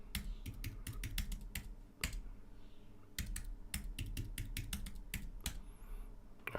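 Rapid keystrokes clatter on a computer keyboard while a password is entered at a terminal, a close, steady run of clicks with brief pauses and no talk.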